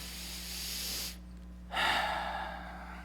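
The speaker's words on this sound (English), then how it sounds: "Take a deep breath here" A single deep breath, heard close as a drawn-in hiss followed by a brief pause and a stronger exhale, with no talking over it.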